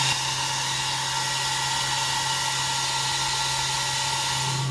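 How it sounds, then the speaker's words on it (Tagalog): A hair dryer blows continuously at close range, a steady whirring roar with a constant low motor hum throughout. "Not vacuum, but hair dryer"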